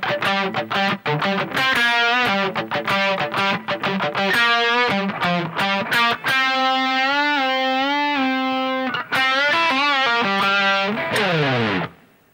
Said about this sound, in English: The second guitar is a lot funkier